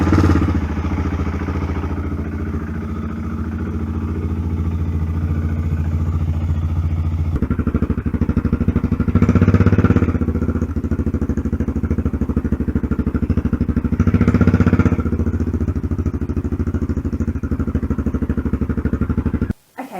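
A BMW F650 GS motorcycle engine runs steadily and loudly nearby, revving up twice as the bike rides off, then cutting out abruptly at the end, with no talking.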